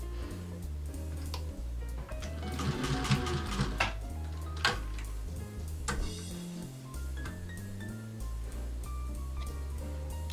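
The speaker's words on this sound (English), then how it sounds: "I'm going to do a few back stitches and take it off the machine." A sewing machine runs steadily while stitching a guinea pig cuddle cup bed, finishing with a few back stitches. The motor hums close and continuous for about ten seconds, with small clicks and ticks throughout.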